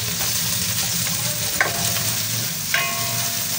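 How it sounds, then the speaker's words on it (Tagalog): Garlic and onion sizzling loudly in hot oil for pork giniling, a dense continuous crackle close up, with two brief sharp clinks of a utensil against the pan; no speech. "Ilalagay na po natin yung ating bawang. Pwede na po natin pagsabayin yung bawang at yung sibuyas."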